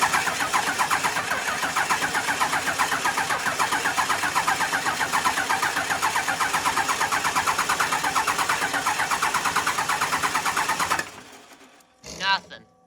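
A 1999 24-valve Cummins diesel fitted with new injectors cranks steadily and loudly on the starter for about eleven seconds without catching, then the cranking stops and brief rustling and a short voice follow.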